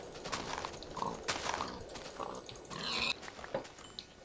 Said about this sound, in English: we're going to start off by killing some pigs because I'm already hungry